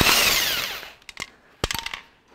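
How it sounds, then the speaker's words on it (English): A Makita BWT450 cordless impact wrench with a 3/4 socket undoes the cylinder head bolts of a Ferguson 23C diesel engine. A loud whirring burst winds down, then short clattering hammering bursts follow, close and with no talk. "I'm just going to see if the Makita BWT450 is up to the task."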